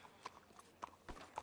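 Horse hooves clip-clopping in a ranch role-play video game, a steady series of sharp, distinct hoof strikes spaced roughly a quarter-second apart, moderately close with no talk.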